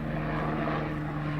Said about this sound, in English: Just let that helicopter go overhead.